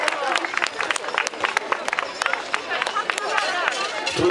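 Crowd applause for runners reaching the finish line of a 5 km and 10 km road race in Obrzycko, steady scattered clapping and cheering at moderate distance, with a voice speaking over it.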